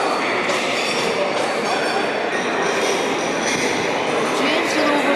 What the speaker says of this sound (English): That's where we get the train.